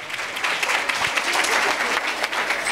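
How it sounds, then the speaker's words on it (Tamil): Audience applause at a Tamil literary festival debate stage, a steady, dense clapping crowd sustained for a few seconds. "அதுக்கு உங்களுடைய கைத்தட்டல் மூலமா பதிலை கொடுத்தா நல்லா இருக்கும்"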